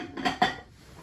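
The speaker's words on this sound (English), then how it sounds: "Closes the cold water container." A lid is closed on the cold water container during a tea ceremony, giving two quick, close clacks of the lid settling in place, the second sharper than the first. Faint room quiet follows.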